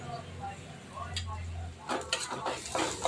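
Turmeric and chili powder sautéing in hot oil in a pan, with stirring, spoon-on-pan clinks and low sizzling that grow busier in the second half; a voice is present at moments.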